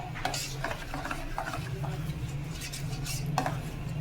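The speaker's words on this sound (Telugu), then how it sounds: "బాగా నీట్గా కలిపేసేయండి ఇలాచీని కూడా" Cardamom powder stirred into cake batter, a spoon clinking and scraping against the bowl in repeated strokes over a low hum, close and moderately quiet, without talk.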